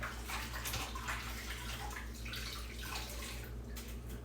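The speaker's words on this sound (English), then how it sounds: "Let me wash my hand." Steady tap water runs and splashes over hands at a kitchen sink, a continuous close rushing wash with no talk.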